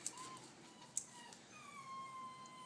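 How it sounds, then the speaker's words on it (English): A dog whines softly indoors, thin high whimpers and a drawn-out plaintive tone, faint and distant with a couple of sharp clicks. "I don't know what's going on with these dogs today"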